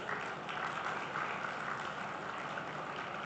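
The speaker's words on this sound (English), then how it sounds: "Please welcome him with a huge round of applause." A seated audience at a university induction programme applauds to welcome a chief guest, a chief digital delivery officer, with a steady, even wash of clapping that holds at a moderate, somewhat distant level throughout.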